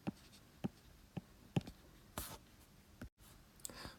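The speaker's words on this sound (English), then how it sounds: "So down here, I'm going to write my answer of 204." A pen writes an answer on paper at a desk, with short scratchy strokes landing in an uneven rhythm, close and quiet, and a brief rustle near the end.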